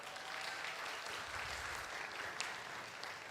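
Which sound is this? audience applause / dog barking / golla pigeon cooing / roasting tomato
audience applause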